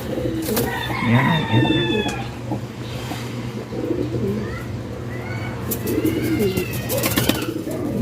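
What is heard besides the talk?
pigeons cooing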